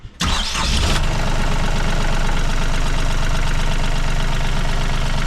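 A boat's inboard engine cranks briefly, catches and settles into a loud, steady idle with a dense rumbling drone throughout.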